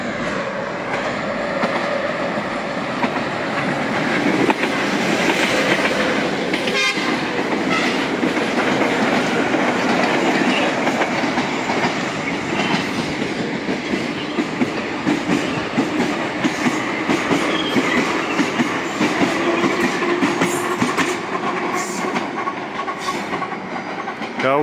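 A metro train on a Tbilisi line rolls out of a tunnel and passes, a steady loud rumble with rail clatter and wheel noise sustained throughout, fading as it disappears back into a tunnel.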